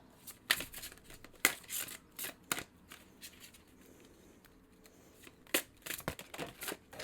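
Tarot cards being shuffled by hand, several quick crisp riffling bursts separated by pauses, close and quiet in a calm room.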